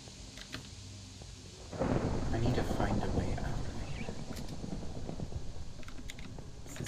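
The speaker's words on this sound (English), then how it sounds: "I hear wind and thunder up there." Thunder rumbles in a Minecraft tornado storm, a loud sudden roll of thunder breaking in over steady wind and rain, with keyboard typing clicks running beneath.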